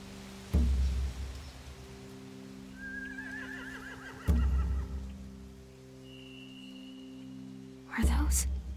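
Horses neigh in The Walking Dead video game, three loud whinnies spaced a few seconds apart, each a sharp burst that trails off, with quiet background sounds between them.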